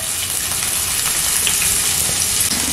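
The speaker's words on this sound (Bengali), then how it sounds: "এখন তেলের মধ্যে দিয়ে দিচ্ছি 1টা কুচানো পেঁয়াজ" Chopped onion dropped into well-heated oil in a pan, frying with a loud, steady, broadband sizzle that holds without pause for the whole stretch.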